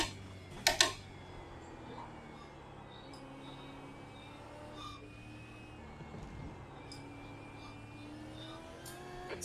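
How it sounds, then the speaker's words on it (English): Steady low engine drone of a V8 Supercar rolling slowly around Thruxton in iRacing, a smooth continuous hum with faint higher whine, one brief sharp click near the start. "It's a car going very slow."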